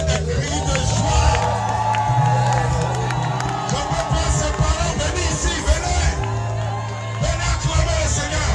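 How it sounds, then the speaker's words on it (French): At a church healing service, a large crowd shouts and cheers for joy, with loud whoops and yells over a continuous babble of voices that stays strong throughout. "Est-ce qu'on peut pousser des cris de joie?"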